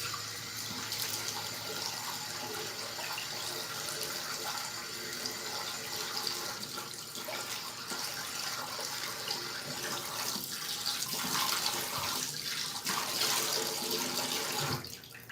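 Water runs steadily from a tap while La Roche-Posay face wash, used as a face mask, is rinsed off; a continuous close splashing hiss with no break.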